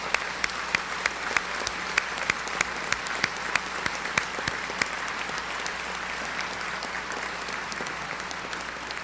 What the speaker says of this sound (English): Please now join me in a large applause for these wonderful guests.